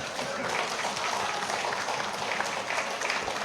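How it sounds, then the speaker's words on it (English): An audience at a diaspora outreach gathering in the British Virgin Islands claps in a steady round of applause, a moderately loud, continuous patter of many hands without speech. "let's give a round of applause for that"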